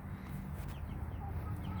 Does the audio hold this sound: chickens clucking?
yes